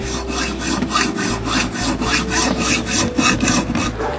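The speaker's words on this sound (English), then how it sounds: "He's cutting the ground rod." Steady back-and-forth sawing on a copper ground rod, a rapid rhythmic rasp of even strokes that carries on close up with no talk.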